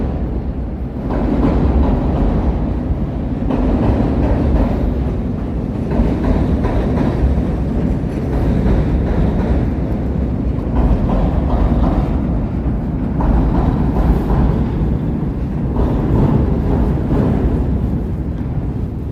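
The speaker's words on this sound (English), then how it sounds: "Oh, here comes another one. Look at that. Trains all around." A train rolls past in Chicago's West Loop, a heavy, continuous low rumble with rhythmic clatter and surging loudness for nearly twenty seconds, close and without talk.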